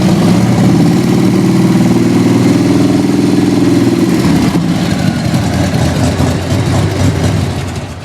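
A Harley-Davidson Softail engine runs loud and close, holding a steady rev near 2,000 RPM before the pitch shifts and settles down toward idle.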